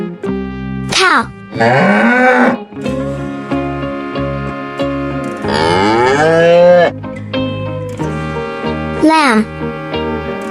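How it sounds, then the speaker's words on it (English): A cow moos in several long, loud, drawn-out lowing calls with rising and falling pitch, close up and heard alone without speech. "cow"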